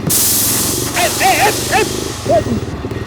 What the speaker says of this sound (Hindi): देखो मेरा टायर पंक्चर हो गया।